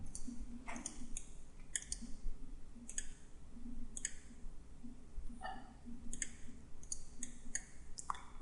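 Quiet, sharp computer mouse clicks come in irregular single and double taps during CAD drafting work, with a faint background hum and no talking.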